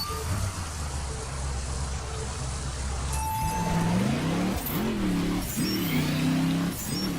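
Muscle car engine in The Crew racing game revving up in rain, pitch climbing and dropping through repeated gear shifts, loud and close, over steady road and rain noise.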